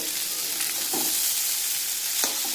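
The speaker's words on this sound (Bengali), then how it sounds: "এর মধ্যে দিয়ে দিয়েছি চাউমিন, ভালো করে মিশিয়ে নেব" Chicken chowmein with fried potatoes is stir-fried and tossed in a pan, a dense steady sizzle with a few scraping strokes of the spatula, close and without speech.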